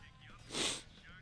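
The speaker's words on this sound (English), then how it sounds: "Sorry, I'm sniffling." A person sniffling, one short, fairly loud intake of breath through the nose rising and fading within about a second, close to the mic against a quiet background.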